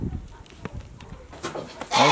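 A newborn calf bleats in a noisy barn, a few short nasal calls in the first half, then a louder, longer bleat near the end, with soft background stirrings.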